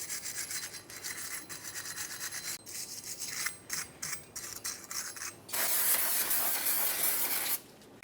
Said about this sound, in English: To do this, we can use a wire brush or even a small piece of sandpaper.